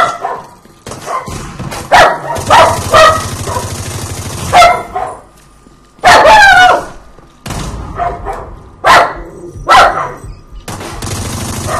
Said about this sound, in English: Dude, what are you barking at